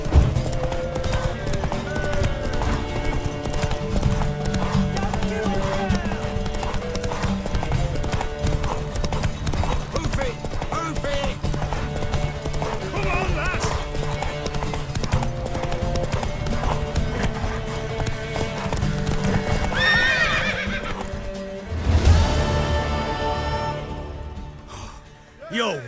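Horse hooves clip-clop steadily alongside game music and ambience in The Witcher 3, with a brief neigh-like burst near the end before the sound drops off.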